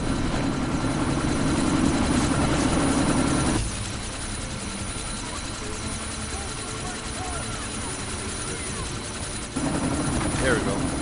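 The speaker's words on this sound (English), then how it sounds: "That chopper's about to take off." Helicopter rotor and engine drone from the Deus Ex: Mankind Divided game as the chopper prepares for takeoff: a steady throbbing roar that drops in level midway, then swells again, while voices talk over it.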